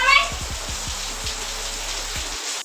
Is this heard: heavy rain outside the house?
yes